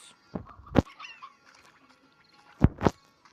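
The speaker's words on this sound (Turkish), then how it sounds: "Tavuk." Chickens in the video game Slime Rancher give two pairs of short, sharp clucking squawks, one pair early and one near the end, with faint game ambience in between.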